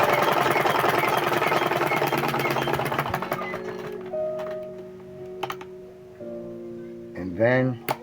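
A sewing machine top-stitches a welt pocket in a tailored garment, giving a close, loud, steady motor whir with rapid needle chatter that slows and winds down, then a few lighter mechanical clicks and a short burst at the end.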